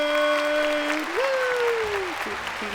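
Applause added for a game show segment, a steady wash of clapping heard throughout, with sustained tonal whistle-like lines layered over it.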